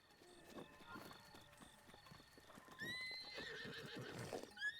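A horse in the video game Breath of the Wild whinnies in rising, squealing calls over a run of clip-clopping hooves, set against soft game ambience.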